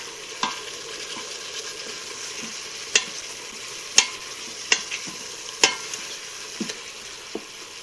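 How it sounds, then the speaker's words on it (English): Garlic and onion sear in a pan under a low steady sizzle, while a utensil scrapes and stirs in several sharp, scattered strokes, close and fairly quiet, with no talking. "we give that a stir while it's searing"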